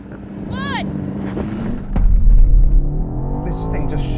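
A BMW X6M, Audi RSQ8 and Porsche Cayenne Turbo S launch off the line in a drag race, engines rising into a loud close roar that swells suddenly midway and holds, with voices talking over it.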